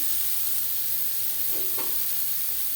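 Sliced bitter gourd sizzles in a frying pan with salt and turmeric as it is stirred, a steady close hiss with a couple of brief scraping stirs.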